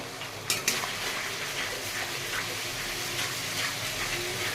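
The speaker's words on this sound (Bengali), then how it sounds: "এবার এই আদা রসুনের পেস্টটা দিয়ে দেবো" Ginger garlic paste goes into a pan of fried onions for mutton kosha and sizzles in a steady, close hiss, with a couple of faint utensil clinks near the start.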